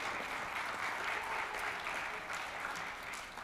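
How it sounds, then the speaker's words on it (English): Steady applause from a church congregation at a Unity spiritual center service fills the room, dense and even throughout without a clear break. "Yes, you can applause to that."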